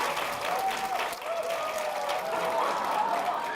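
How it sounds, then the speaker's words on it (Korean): An audience at a university special talk on law and human rights applauds warmly, a continuous, even spread of many hands clapping at moderate volume, with a faint voice carrying through. "박수 한번"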